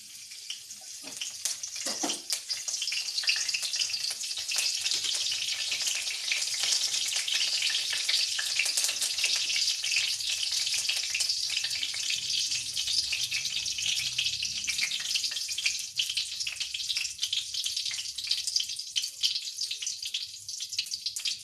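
Curry leaves sizzle and crackle in hot white oil in a pan, a steady loud frying hiss that runs the whole time with a brief sharper spatter early on and no talking.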